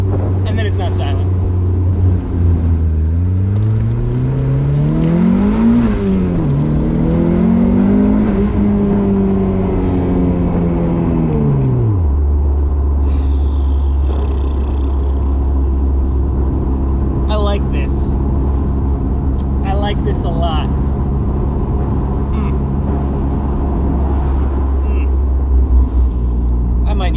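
A turbocharged Mazda Miata race car engine idles low, then revs and accelerates hard with rising pitch before dropping back to a steady rumble.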